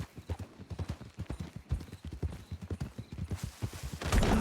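Steady clip-clop of horse hooves trotting at a brisk rhythm in a medieval roleplay video game, close and clear, with a brief rush of noise at the end.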